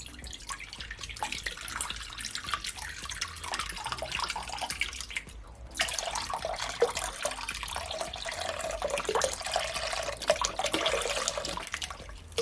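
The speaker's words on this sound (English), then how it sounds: "Now I'm gonna add my cranberry." Cranberry juice poured into a container for punch, a continuous liquid splash that grows louder and fuller midway, close and clear with no talk.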